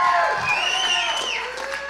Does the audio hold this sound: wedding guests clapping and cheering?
yes